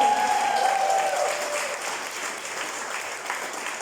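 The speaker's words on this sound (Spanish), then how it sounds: "¿Cuánto le dan un fuerte aplauso al Señor?" A church congregation at a Sunday morning service gives a strong round of applause, dense massed clapping that holds steady and eases slightly over a few seconds, with no talk on top.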